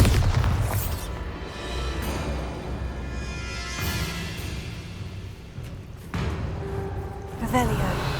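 Bombarda blasting spell explosions in the Hogwarts Legacy video game thump repeatedly as deep booms and bursts over a steady, dense game soundscape, with sharper blasts near the start, middle and end.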